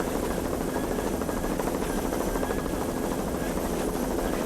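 A helicopter flies over an offshore powerboat race in Key West, its rotor and engine making a steady, loud, dense drone with a fast rhythmic chop that holds evenly throughout.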